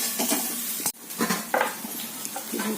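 Dosa batter spread over a hot pan for hotel-style masala dosa, giving a steady close sizzle with soft scraping and stirring strokes and a few light metallic pan contacts, no talking.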